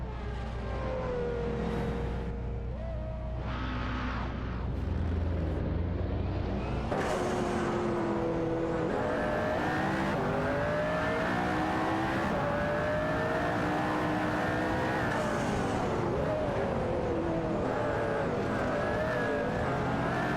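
In a video game race, a Pagani Zonda R and a McLaren roar along, engines revving up and down through gear changes, with a low rumble that gives way to a sustained high-pitched scream.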